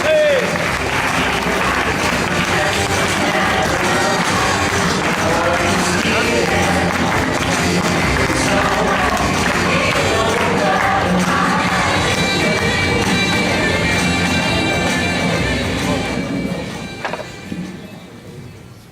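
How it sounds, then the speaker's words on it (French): Audience applause for a slam poet at a 2015 slam poetry contest, a dense, sustained clapping that fills the room and tapers off near the end, with some voices mixed in. "On applaudit Gisret"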